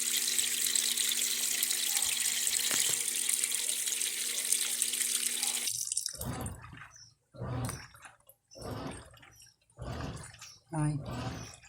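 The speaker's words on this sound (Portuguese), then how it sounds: "Depois eu vou passar uma água aqui nesse dispenser para sair o resíduo." Water from a tap runs steadily into the detergent dispenser of a Brastemp electronic washing machine, rinsing out residue with a hissing flow, then stops about halfway through and a person talks in short phrases.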